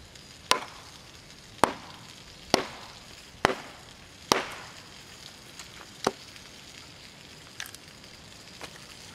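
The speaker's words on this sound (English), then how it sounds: "as I'm chopping, getting all this kindling up together" A tiny tomahawk splitting bone-hard kindling that has dried for about two years, with sharp, distinct chops struck about once a second, each a crisp crack followed by a short woody ring, close and alone.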